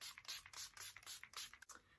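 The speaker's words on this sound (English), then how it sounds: "I'm going to set all this makeup now by using the Revolution Pro Fix setting spray" Revolution Pro Fix makeup setting spray mists out in a quick series of short, close hissing pumps, about eight bursts in rapid succession, soft and alone without talk.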